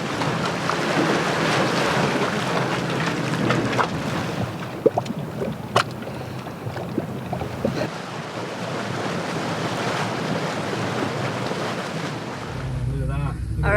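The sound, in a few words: Dragon's Mouth Spring surging water and steam, Yellowstone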